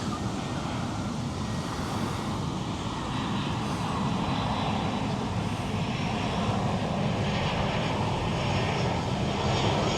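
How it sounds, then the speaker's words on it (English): A passenger airplane comes in low to land at Larnaca airport over Mackenzie Beach in Cyprus. Its engines roar loud and steady for the whole stretch, with faint surf and wind underneath and no speech. "Another plane coming in."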